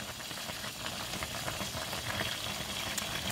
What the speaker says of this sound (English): So we're going to let it cook down a little bit more.